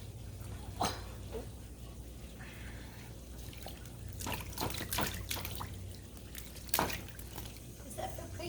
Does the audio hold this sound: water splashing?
yes